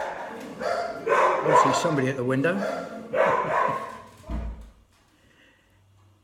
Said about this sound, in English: excuse my dogs, they're going berserk.